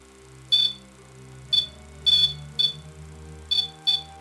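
A ghost-hunting device gives off six short electronic alarm beeps at irregular intervals, sharp and fairly loud over a quiet, steady hum.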